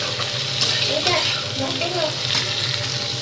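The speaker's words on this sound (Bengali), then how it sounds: "ক্যাপসিকাম আর পেঁয়াজটা দেখো একটু ভাজা ভাজা হচ্ছে" Chopped onions and capsicum sizzle and fry in a pan, a steady close hiss with occasional stirring scrapes and faint background voices.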